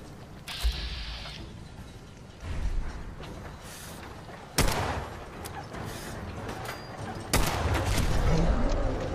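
Gunfire from a sniper rifle in the video game Fallout 4. A few loud, sharp cracks are spaced seconds apart, with mechanical clicks and rattles between them and a player's voice now and then.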